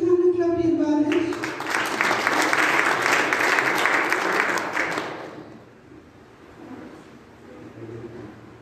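Church congregation clapping together during an Afrikaans gospel service, a dense, loud burst of applause that follows a sung note and runs about four seconds before fading into a quieter room with a held tone.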